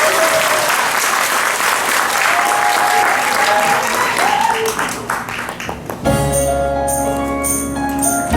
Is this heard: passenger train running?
no